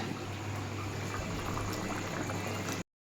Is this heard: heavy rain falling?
no